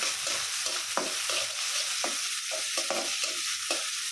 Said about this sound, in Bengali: লাউ শাকটা ভাজি করবো